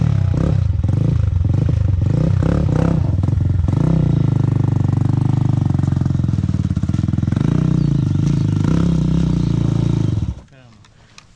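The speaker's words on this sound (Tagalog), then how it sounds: "Okay lang yung motor." A motorcycle engine revs hard and loud while climbing an uphill river crossing at Sitio Pidpid River, with rough rising and falling revs and clattering before it cuts off abruptly near the end.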